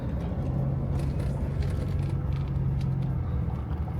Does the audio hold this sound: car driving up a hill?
yes